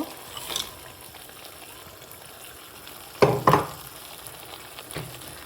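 Beans and peas are poured into a hot frying pan: a low sizzle, then two quick loud rattling bursts as they tumble in, followed by softer frying and a faint clink.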